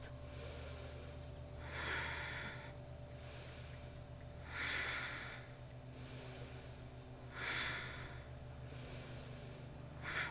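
A yoga practitioner breathing during a power yoga practice, with slow, audible breaths through the nose coming in steady cycles about every three seconds, close and quiet over a low background hum.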